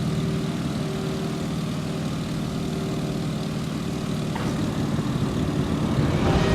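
A Boeing PT-17 Stearman biplane's radial engine idling in a flight game, a steady close propeller drone with a low throbbing hum, unbroken and without speech.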